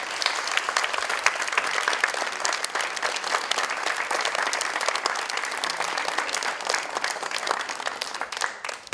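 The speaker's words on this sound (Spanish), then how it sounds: "Un fuerte aplauso para ella," Sustained, loud applause from a theater audience during a tribute at a Colombian play performance in Villa El Salvador, dense and steady throughout without speech.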